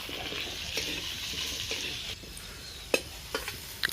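Potatoes sizzle steadily in hot oil in a wok, with occasional scraping clinks of a spatula stirring them.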